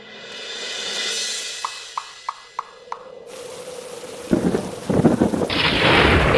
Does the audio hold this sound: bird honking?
no